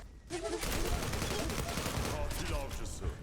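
An AK-47 rifle fires in a continuous loud automatic burst in the Zula game, dense rapid shots close up with a voice over part of it.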